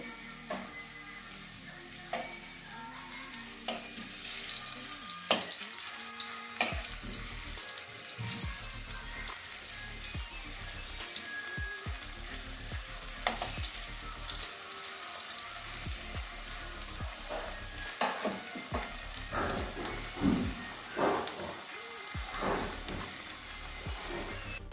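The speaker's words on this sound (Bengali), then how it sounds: "সিদ্ধ করা আলুই একটু ভেজে নিলাম।" Boiled new potatoes fry in hot oil in a pan, giving a steady, low sizzle that runs throughout, with occasional light ticks and clinks and no voices.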